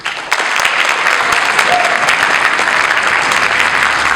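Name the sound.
audience applause at high school winter concert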